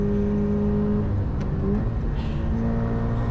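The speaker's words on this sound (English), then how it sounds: "So you'll hear on the left hand side I'm still braking and downshifting to third," A race car on a circuit at Queensland Raceway, braking and downshifting to third gear: a loud, steady engine drone with shifting tonal harmonics, heard close and continuous with no voices.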